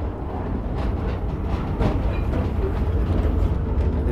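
A train running along the Kerala coast beside the beach, heard from on board as a steady, loud low rumble of wheels and carriage with faint rhythmic clacking throughout, no voices.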